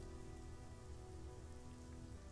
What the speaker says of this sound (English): A light drizzle of silver rain brushes the villages.